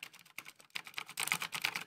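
A Razer BlackWidow mechanical keyboard clatters with rapid, crisp key clicks in irregular bursts, close and fairly quiet, heard alone without any talk.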